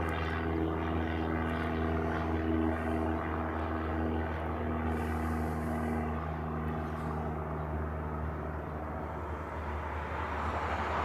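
Airliners, including Japan Airlines and ANA Dreamliner heavies, approaching to land at Honolulu airport, a steady distant jet engine drone that holds fairly constant and faint throughout.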